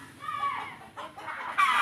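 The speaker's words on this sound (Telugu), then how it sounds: "అది వచ్చేసరికి కోళ్ళు కూడా చాలా బెదిరిపోయినాయి అనమాట" Chickens cluck and squawk in agitated bursts, a few birds calling close by over faint background noise.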